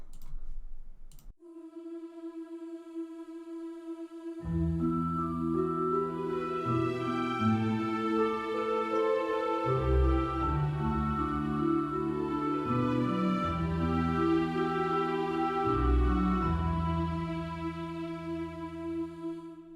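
A calm orchestral passage with a high, bell-like celeste tinkling a repeating broken-pedal figure over sustained low chords, soft and steady throughout.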